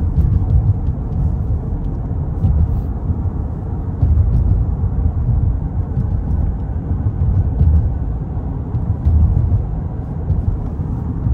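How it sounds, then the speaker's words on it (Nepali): A steady low roar of an airplane passing overhead on a lake trip fills the whole stretch, a continuous broad rumble with no pauses. "प्लेनै छ।"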